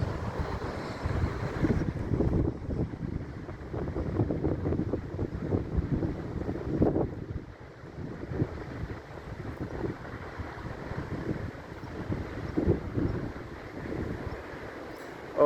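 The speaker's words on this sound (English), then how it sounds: "oh, it's windy" Wind gusts buffet the microphone outdoors at a hilltop building site in Spain, a steady broadband rush that swells and dips in loud waves throughout with no speech.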